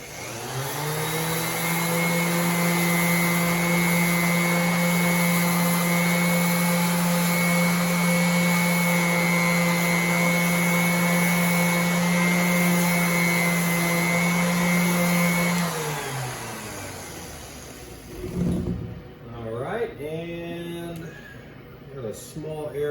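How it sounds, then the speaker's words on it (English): Power sander working over cured Bondo glazing and spot putty on a jetpack thruster repair, a loud, steady, close whine holding for about fifteen seconds before winding down, followed by brief handling noises. "We're just going to hit it with the sander real quick."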